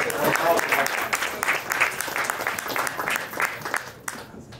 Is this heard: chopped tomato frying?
no